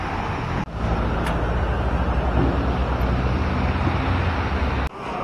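River water rushing steadily along a mountain hiking trail near Tanay, Rizal, a loud continuous broadband wash close by, with two brief dips in level.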